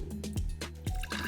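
Water is poured into a glass for a kids' science experiment, giving quiet gurgling splashes in a few short bursts, close by and alone.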